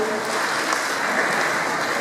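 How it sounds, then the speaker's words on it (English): Crowd at a Kent police open day self-defence display clapping outdoors, a steady, fairly loud patter of applause with no break over two seconds. "So round of applause for Sammy in the suit."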